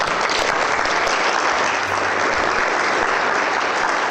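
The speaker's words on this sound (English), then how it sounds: "Give a big applause again." An audience at an acupuncture conference applauds, a thick steady roar of many hands clapping at constant loudness throughout.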